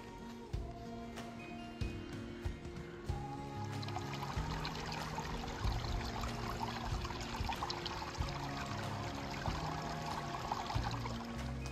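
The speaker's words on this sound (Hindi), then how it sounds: "बहुत हैवी फ्लो हो रहा है इस वक्त पानी का भाई, जो बहाव चल रहा है।" A heavy flow of river water rushes steadily on the Kalsubai trek in Maharashtra, a constant broad wash with scattered splashes, moderately loud and continuous throughout.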